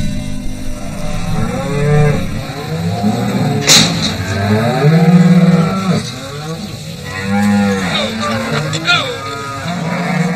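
Cattle moo repeatedly in Montana as a local rancher drives his cows into Frontier Valley, several long, loud lowing calls overlapping from near and farther animals, with some faint background noise between them.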